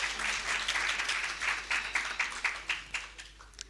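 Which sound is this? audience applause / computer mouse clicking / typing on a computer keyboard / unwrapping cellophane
audience applause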